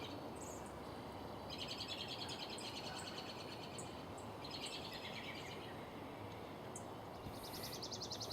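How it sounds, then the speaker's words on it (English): Birds call outdoors in the background, repeated bursts of high chirps and trills coming and going over a soft, steady ambient hiss. "Birds are making a noise in the background"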